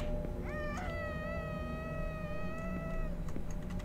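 A cat screams in the video game Mimic Search with one long, wavering yowl lasting a few seconds, loud and near over a steady low background hum.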